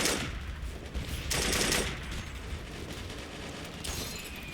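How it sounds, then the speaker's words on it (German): Rapid gunfire bursts in the video game Operation Flashpoint: Red River, a dense, loud crackle of rifle and machine-gun shots with a sharper volley in the middle, continuing steadily throughout. "wir werden beschossen"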